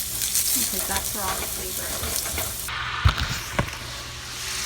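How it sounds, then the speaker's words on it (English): Red wine vinegar sizzling as it hits a hot baking dish with chopped garlic and fond, a steady close frying hiss with a few sharp pops, under a voice talking at the start. "That was the sound of me adding the red wine vinegar"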